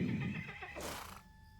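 A horse neighing in the Lord of the Rings Online video game, one loud whinny that rises and trails off, with a faint hoof clop.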